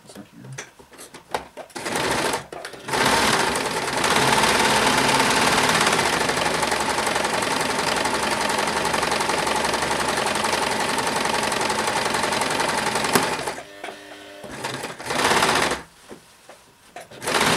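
Sewing machine stitching a pants pocket: a few short stop-start bursts, then a long steady run of rapid mechanical stitching lasting about ten seconds, ending in more brief bursts, close and loud, with no talk during it.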